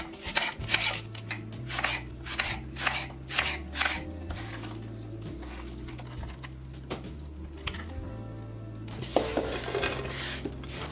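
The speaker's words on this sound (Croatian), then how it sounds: "Iseckat ću 2 mala praziluka, otprilike je to 300 grama" Two small leeks, about 300 grams, being cut with a knife on a board: a run of quick, regular chopping strokes that starts brisk, slows into softer cuts, then turns to scraping and clatter, with steady background music.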